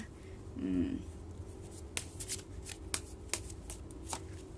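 Tarot cards shuffled and set down by hand, a soft riffling burst near the start followed by several sharp taps and flicks as cards are placed, close and quiet, with faint room noise.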